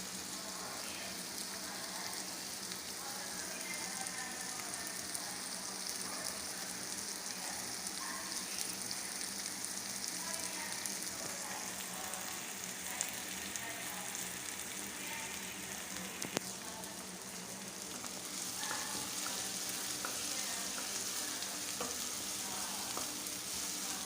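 Tomatoes going into a pan of sautéing onion for green mongo, with a steady broadband sizzle and frying crackle running throughout and occasional stirring scrapes, fairly close and even in level.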